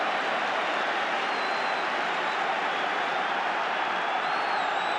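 A large football crowd at the 1985 FA Cup Final between Manchester United and Everton roars and claps in a dense, steady wash of noise that holds at the same level throughout.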